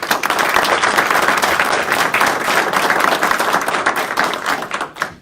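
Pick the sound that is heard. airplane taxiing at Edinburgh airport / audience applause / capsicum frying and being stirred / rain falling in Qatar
audience applause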